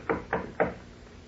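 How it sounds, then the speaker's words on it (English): Three quick knocks on a bedroom door in a 1940s radio drama, close and fairly soft, evenly spaced and then silence. "I will knock."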